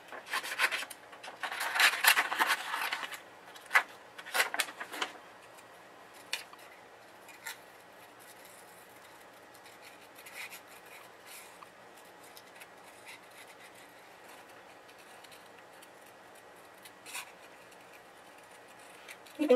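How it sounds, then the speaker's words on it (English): Scissors snip through thin scrap paper around inked words for a watercolor craft, with quick close cuts clustered at the start, then sparse faint rubbing and handling sounds. "Your pair of scissors and then just cutting it as close as you can to the words."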